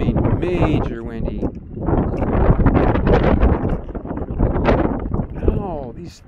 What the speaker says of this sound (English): Wow, it's really windy here.